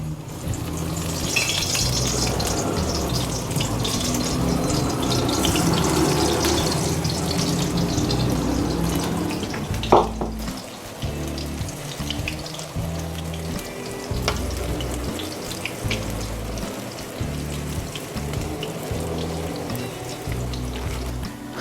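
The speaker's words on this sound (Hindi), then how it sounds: "पालक के पकोड़े फ्राई हो रहे हैं।" Spinach pakoras deep-frying in hot oil, a loud, dense, continuous bubbling sizzle throughout with one brief clatter partway, no voices.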